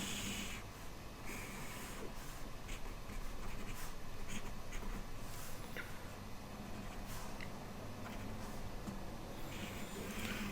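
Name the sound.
drawing a picture while screencasting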